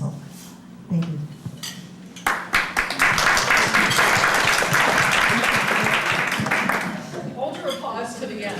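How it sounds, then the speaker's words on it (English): Audience applause at a city council candidate forum, breaking out suddenly after a quieter stretch with talk, swelling into dense clapping for several seconds and then tapering, with clinking dishes and cutlery from a breakfast setting mixed in. "Hold your applause to the end, okay?"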